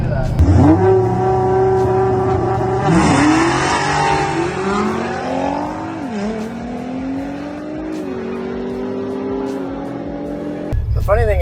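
An LS-swapped Ford F150 short-bed truck with a 3-inch X pipe and Spintech mufflers revs hard during burnouts, the engine climbing repeatedly in loud rising sweeps, close and dominant with a sharp cutoff near the end.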